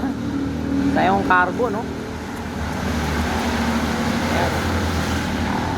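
A Toyota GLI automatic car engine idles quietly and steadily under its hood, a low continuous hum running through the whole stretch, with someone talking briefly over it near the start.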